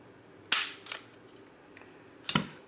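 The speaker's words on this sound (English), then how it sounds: "let's drop that mag out, let's rack the weapon" Slide of an HK VP9SK 9mm pistol racked by hand, two sharp metallic clacks about two seconds apart with a faint click between, close and dry against a quiet room.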